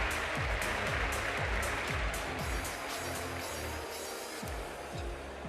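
Audience applause in a hall at the MotoGP Awards in Valencia, a steady wash of clapping held at an even level throughout, with a rhythmic low thumping music beat underneath.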